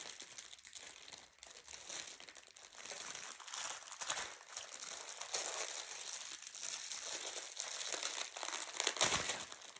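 Plastic cargo-package wrapping crinkles and crackles steadily as a parcel holding engraved stones is opened by hand, a dense close rustle with brief louder crunches throughout.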